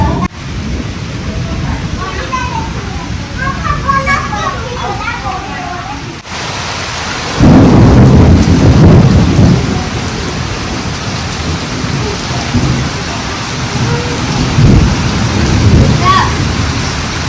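Heavy rain pours down at a farmhouse with rolling thunder, a steady loud roar of downpour rising in a thunderous swell midway, with voices talking beneath it.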